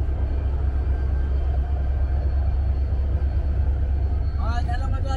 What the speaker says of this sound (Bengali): আমাদের ট্রেন পৌঁছালো বঙ্গবন্ধু সেতু পশ্চিম রেলওয়ে স্টেশন